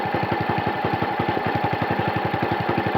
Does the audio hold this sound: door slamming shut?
no